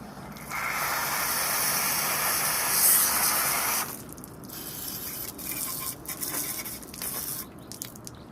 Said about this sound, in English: maybe I'll just do a little spray out